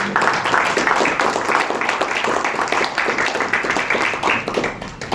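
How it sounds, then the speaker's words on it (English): Audience applause after a speech at a groundbreaking ceremony for Malaysia's net zero-carbon pavilion at the Expo: dense, steady clapping from a crowd, sustained and even throughout. "One round of applause once again, please"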